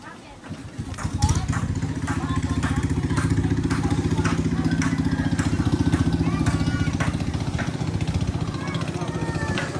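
A motor engine chugs steadily and loudly with a rapid, even mechanical rhythm while grinding tilapia feed, running continuously while voices talk over it.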